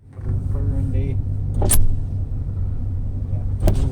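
A Lincoln Mark VIII idles with a low, steady rumble just after starting, close by, while people talk over it and a couple of sharp clicks or knocks cut in.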